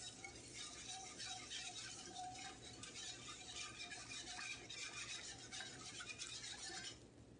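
A gravy whisk works through a thickening casserole sauce in a home kitchen, quick rhythmic scraping and faint clinks against the pan running steadily and quietly, fading at the end.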